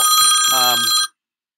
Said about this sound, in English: I hear bells.